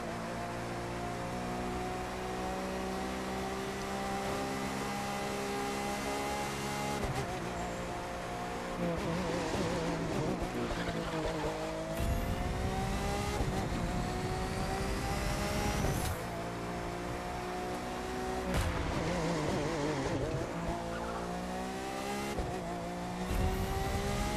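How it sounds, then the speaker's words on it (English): A Lamborghini Aventador engine in the video game The Crew 2 roars steadily throughout, revving up and down through gear changes with occasional tire noise, loud and continuous without any talking. "so you can kind of hear the sounds of the car"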